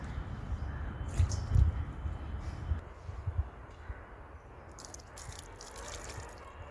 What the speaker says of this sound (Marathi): तर आता कोहळा ना धुवून घेतोय